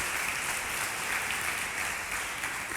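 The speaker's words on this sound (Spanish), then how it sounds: "Y le damos unas palmas a los que están en casa o donde estén." A church congregation applauds during a worship service, steady dense clapping from many hands filling the room without pause for the whole stretch.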